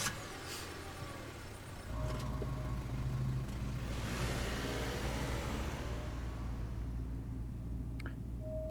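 A car driving along a road in the game Scarlet Hollow produces a steady, low engine hum and road rumble, faint and continuous, swelling slightly after a couple of seconds and holding evenly to the end.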